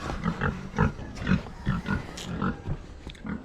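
Big pigs in a pen grunt in a steady run of short, rhythmic snorts, close and fairly loud, with rough breathy texture and no talking.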